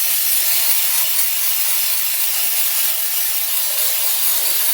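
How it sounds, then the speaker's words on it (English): Brake parts cleaner sprayed onto greasy drive shaft parts of a Yamaha YXZ side-by-side, a steady close, loud aerosol hiss running continuously for several seconds without talk. "I'm just going to go in there and clean everything with some brake parts cleaner."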